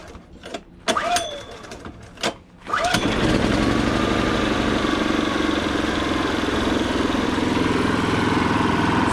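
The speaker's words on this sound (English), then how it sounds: "So there we go, the generator is running, and we have our green output light" A Kipor generator is pulled to start after a few short sputtering attempts, then catches and runs at a loud, steady, even drone close by.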